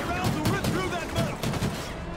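Rapid overlapping gunfire fills a firefight in the Call of Duty Ghosts video game, dense and continuous with bursts stacking over each other, under game voices.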